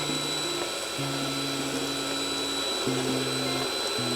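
An electric hand mixer whisks lemon cake batter, a steady motor whine running continuously and shifting pitch as the speed changes, close and fairly loud with no talking.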